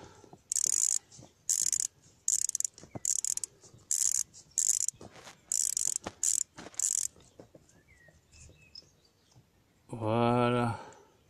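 Repeated bursts of ratchet-wrench clicking work loose an injector nut on a 2.2 HDI diesel engine in a Citroën C8, with short pauses between strokes, and a brief louder mechanical whir near the end.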